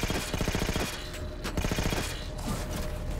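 Rapid automatic weapon fire in Halo 4 rattles in dense, close bursts, pausing briefly between volleys, with a mechanical clatter throughout and no talk over it.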